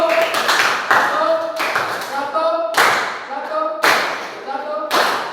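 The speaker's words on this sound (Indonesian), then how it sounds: "Tepuk tangan dulu buat kelompok semangat dulu." Bursts of hand clapping from a classroom group, several rounds of applause separated by short pauses, with voices talking and cheering underneath.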